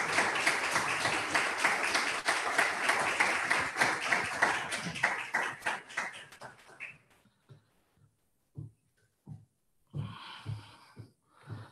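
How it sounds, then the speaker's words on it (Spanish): Loud applause from the audience at a solemn municipal council session marking a 158-year anniversary, dense clapping for about seven seconds that thins out and fades into scattered claps and a few isolated taps. "Démosle un fuerte aplauso, por favor."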